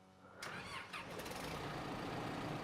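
A heavy truck engine in the SnowRunner video game cranks and catches about half a second in, then settles into a loud, steady low idle that runs to the end, with no talking.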